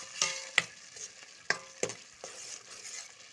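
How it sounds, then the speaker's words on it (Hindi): Masala gravy for chhole being stirred and fried in a pan, with sharp scraping spoon strokes over a steady soft sizzle, close and fairly quiet. "ग्रेवी अच्छे से भुन जानी चाहिए।"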